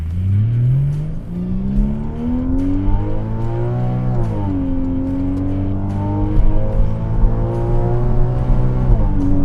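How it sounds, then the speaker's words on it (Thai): A Porsche Boxster 981's loud V6 engine revs repeatedly, pitch climbing and dropping as the throttle opens and closes, with a deep throaty exhaust note throughout. "เสียงท่อลั่น ๆ เลย"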